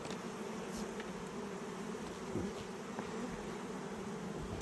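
Honey bees buzzing around a log hive during a honey harvest, a dense continuous hum close by with no talk.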